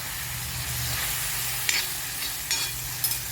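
Finely chopped vegetables sauté in a pan with a steady close sizzle, broken by a few short scraping stirs near the end. Nobody speaks.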